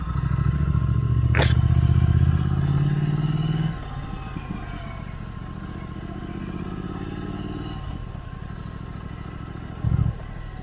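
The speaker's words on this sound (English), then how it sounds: "I'm riding a road monster in an off-road bike, which is a hard ride." Off-road motorcycle on a rough track, a loud low engine drone that drops after a few seconds to a steadier rumble with clattering over bumpy ground, plus a brief low thump near the end.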